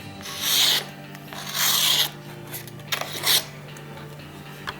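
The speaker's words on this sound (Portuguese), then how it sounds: "o que eu vou fazer é melhorar isso aqui um pouquinho mais, passando ele na lixa 320" Knife blade drawn across 320-grit sandpaper for sharpening: three rough rasping strokes, the first two long and steady, the last shorter, close and fairly loud with quiet pauses between and no talk.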